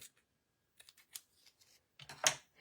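Scissors snip paper while trimming a card pocket to size, a few quiet, close cuts and rustles in scattered bursts, ending in a slightly louder snip.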